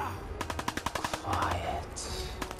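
Pipe pistol gunfire in Fallout 4 rings out as a quick string of sharp, rhythmic shots, about eight in rapid succession, followed by a noisy burst and a few more scattered shots, with faint whispering underneath.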